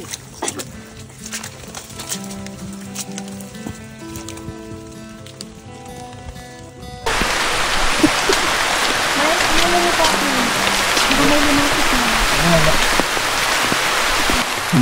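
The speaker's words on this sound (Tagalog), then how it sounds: "Umuulan po mga kaibigan." Steady rain hisses loudly after a quieter opening with music, the downpour continuing as a dense wash on a mountain hike, with occasional voices faintly mixed in.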